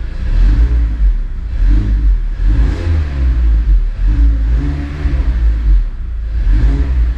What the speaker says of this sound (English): I'm gonna rev it for you guys right now.